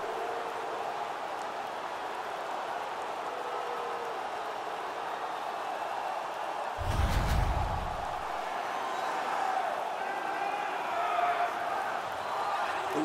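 Restless home arena crowd in the NHL 18 hockey game, Detroit Red Wings against Minnesota Wild, murmuring and grumbling as a steady wash of noise, with a brief louder surge midway.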